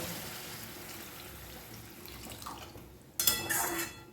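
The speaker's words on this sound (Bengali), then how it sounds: "মশলাটা কষা হয়ে গেছে আমি জল দেব" Water poured into a pan of spiced Pabda fish curry with aubergine, a sudden bright splash and pouring rush near the end after a quiet stretch of low kitchen murmur.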